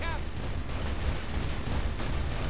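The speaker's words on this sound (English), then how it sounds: "Oh, right click shoots missiles!" Missiles fired in Saints Row IV come as a dense, continuous roar of booming launches and blasts, loud and rumbling throughout without a clear pause.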